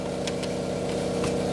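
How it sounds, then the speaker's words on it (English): MK4 Volkswagen Golf engine running with an exhaust leak, a steady droning hum with a rapid regular ticking puff through it, heard alone from close by. "It does have an exhaust leak."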